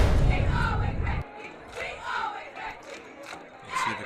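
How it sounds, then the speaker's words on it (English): A high school football crowd at a night game, the student section yelling and cheering from a distance in bursts, loud at first and then dropping to scattered shouts and whoops. "You see the crowd, the student section there."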